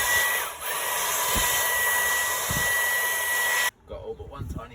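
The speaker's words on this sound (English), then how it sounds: "I've set the vacuum to boost mode." A shop vacuum running on boost mode during spark plug work on an RB25DET engine in a Nissan Cefiro, a steady loud hissing whine that cuts off abruptly near the end, leaving quieter handling noises.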